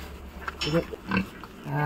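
Pigs in a pen give a few short, moderately faint grunts in the middle, set against a low background hum.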